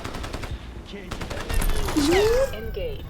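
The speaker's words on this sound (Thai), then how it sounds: "ทันทีที่ปลดมึงก็สาดกระสุนเลยเหรอ" Rapid automatic gunfire spraying bullets in Crysis Remastered, a dense rattle of shots with gliding whistle-like tones, and someone talking over it.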